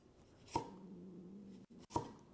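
A knife chops through half a tomato on a cutting board, cutting it into wedges: two sharp, distinct strikes about a second and a half apart, close and clear, with quiet kitchen background between them.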